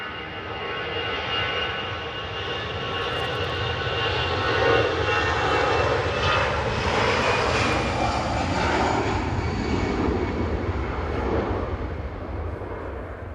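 Airbus A320 jet at Manchester Airport in the evening, a loud, broad engine roar that swells as the plane passes close and then slowly fades over about thirteen seconds, with no talk.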